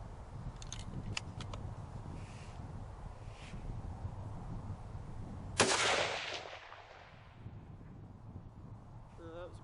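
A single loud rifle shot from a .284 Shehane F Class rifle during load testing cracks midway, followed by a decaying outdoor echo, with faint clicks and talk before it.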